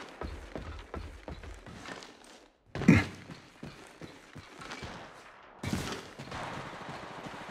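Gunfire in the mobile battle royale shooter Apex Legends Mobile, a rapid series of sharp shots in bursts with gaps between them, one louder blast near the middle, close and clear.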